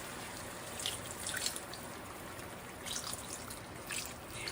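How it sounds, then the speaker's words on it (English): Water trickles and drips into a pot while adobo is being made, a quiet, steady running stream with small splashy bursts, heard alone without talk. "Then you add the water."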